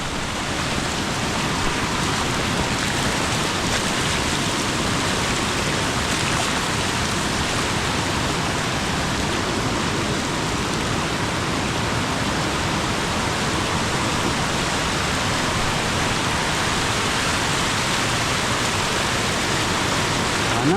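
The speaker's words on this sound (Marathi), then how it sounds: "फायनली पाऊस असा पडला आहे" Heavy monsoon rain pours down beside a flooding river in Khed, Ratnagiri, Konkan, a dense unbroken roar of water that stays loud and even throughout.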